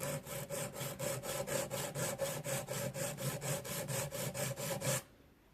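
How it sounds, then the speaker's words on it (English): An artificial nail tip being filed in quick, even back-and-forth strokes, a close, dry rasping rhythm of about four strokes per second that stops abruptly near the end. "you have opportunity to file it like this"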